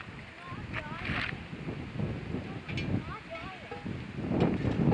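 Wind gusts across a lakeside campsite on eastern Lake Ontario, where a Dutch oven sits over a campfire: a steady, rushing breeze that swells and buffets the microphone, with faint voices.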